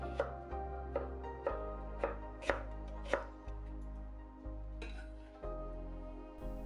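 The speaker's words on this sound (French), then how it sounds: "détaillez simplement la salade en chiffonnade, le concombre en allumettes" Knife chopping lettuce into chiffonade and cucumber into matchsticks on a cutting board, about ten crisp, evenly spaced strikes close up over a low steady hum, with no talking.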